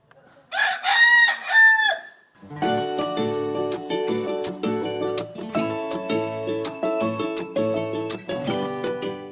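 A rooster crows once, loud and close, then a busy run of music with plucked and percussive notes carries on without voices.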